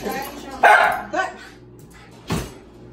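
A pet dog barks a few times near the camera while being offered a treat, with short sharp yips and people talking around it.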